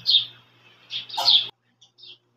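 A sparrow chirps near its nest in a village after a night of rain, giving a few short, bright tweets up close with brief pauses between them.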